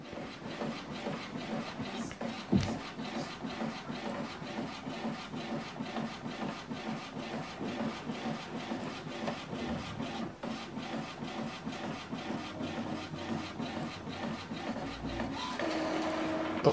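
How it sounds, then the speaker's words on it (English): An Epson WF2930 inkjet printer prints a network status sheet, with a steady mechanical whirring and rhythmic rubbing of the print carriage, plus a few clicks and a louder feed at the end, heard alone and close. "So what it's doing now is printing out network status sheet."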